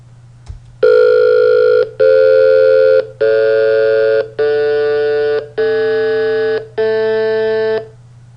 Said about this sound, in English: hopefully you could hear this decreasing tone here, which I am not generating